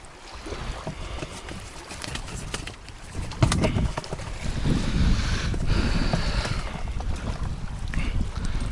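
Strong wind gusting across open water during perch fishing from a boat, blustery buffeting that swells after a few seconds and stays loud and rough against the microphone.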